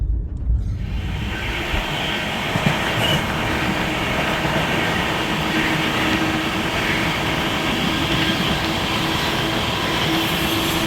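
The Mahakaushal Express runs at speed, a loud steady rumble and rattle of the rail carriage heard from inside, with rolling wheel noise and faint rhythmic clatter that never lets up.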